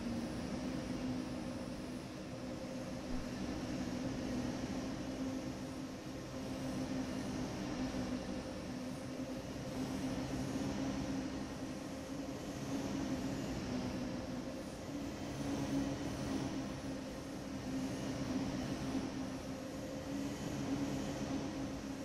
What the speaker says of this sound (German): Wie der Zug sich da so durchschlängelt.